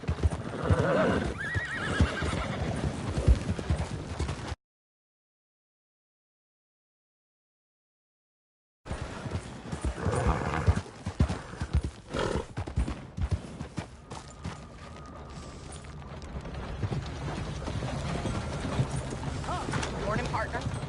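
In Red Dead Redemption 2, a horse's hooves clip-clop in a quick gallop with a whinny, mixed with other game sounds, a voice, and a stretch of silence in the middle.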